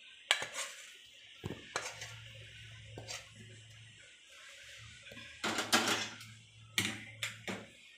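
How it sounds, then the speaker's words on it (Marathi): A wet coconut mixture is scraped out of a pan onto a ghee-greased plate. Repeated sharp metal scrapes and clinks come in clusters over a low steady hum, fairly quiet and close. "हे जे आहे मिश्रण ते आता आपण ताटात काढून घेऊया फटाफट"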